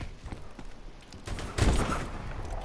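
Single heavy sniper rifle shot in Call of Duty Advanced Warfare, a sharp loud crack partway through, with quieter game ambience before it and a lingering echo after.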